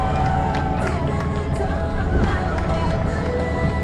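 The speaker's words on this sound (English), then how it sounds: "can we get a big round of applause for all of our 10K winners today?" Crowd cheering and clapping for the 10K winners at the Great Western Trail Race, a steady, dense roar of applause and hubbub filling the whole stretch with scattered whoops on top.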